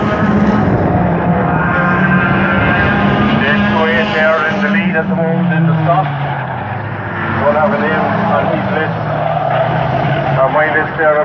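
Stock cars race round Waterford Raceway with loud, continuous engine roar, revs rising and falling as the pack sweeps through a bend, while a commentator talks over the noise throughout.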